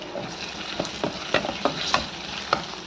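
Ingredients for crab gravy sautéing in a pan: a constant close sizzle of frying, broken by a series of sharp spoon scrapes and clinks as the mixture is stirred, with no voices.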